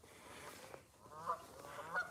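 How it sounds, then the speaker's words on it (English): Geese honk outdoors, a few faint, distant calls scattered over a low ambient background. "Oh, there's some geese."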